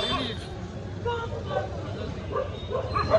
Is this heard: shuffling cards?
no